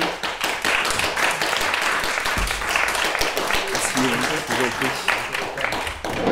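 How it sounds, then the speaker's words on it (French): Audience applauding at a French public-sector management innovation event, a dense steady wash of clapping that fills the whole stretch, with some voices and a brief low thump mixed in. "Je vais vous demander de les applaudir"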